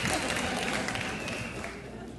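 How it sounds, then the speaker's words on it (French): A church audience gives applause, a dense, steady wash of clapping that holds at an even level from start to finish, with a voice faintly mixed in. "On l'applaudit."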